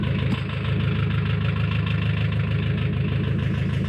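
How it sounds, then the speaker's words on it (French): A Suzuki Samurai engine idling with no exhaust line fitted, giving a loud, raw, steady rumble with fast rhythmic pulsing close to the listener and no speech. "On va voir s'il démarre du premier coup."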